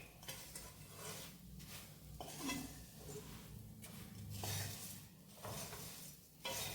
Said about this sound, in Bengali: এবার এই মশলাটার সঙ্গে ভালো করে তোমার মুড়িটাকে মেশাতে হবে।